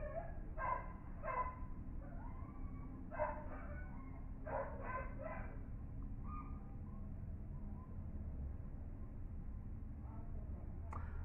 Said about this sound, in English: let's see if the dog will stop